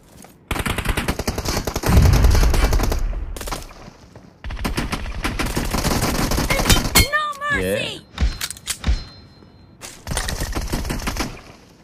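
Gunfire in a mobile shooting game played on an iPad Pro, first in rapid bursts, then single pistol-like shots, loud and dense with clinking shell sounds and brief gaps between volleys.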